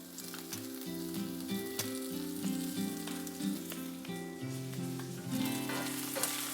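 Onions, garlic and ginger sizzle in chili oil in a pan over medium heat, a steady close frying hiss under soft background music throughout.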